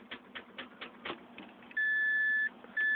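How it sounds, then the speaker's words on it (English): Car key-in-ignition warning chime, two sustained electronic beeps, the second following a short gap, heard close after a series of soft clicks. "We're beeping because the keys are in there."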